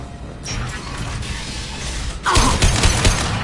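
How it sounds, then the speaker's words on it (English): A heavy metal shutter slams shut in Mass Effect 2, a loud mechanical clatter and rattle breaking in abruptly after steady background game noise. "Get that shutter closed."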